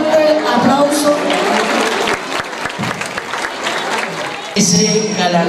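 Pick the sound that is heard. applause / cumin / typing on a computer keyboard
applause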